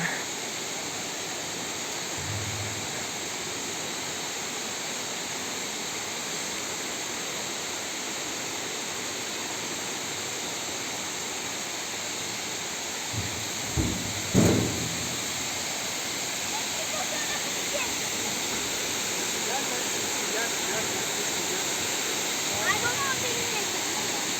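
Constant roar of a waterfall fills the whole stretch, broad and steady, with a few brief knocks and bumps nearby partway through.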